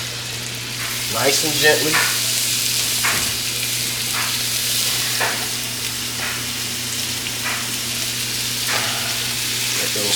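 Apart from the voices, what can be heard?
beef sticks frying and sizzling in a pan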